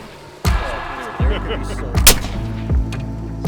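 Several muffled booming shots from a suppressed firearm during a suppressor test, each a heavy low thump with a short ringing tail, spaced roughly a second apart, loud and close outdoors.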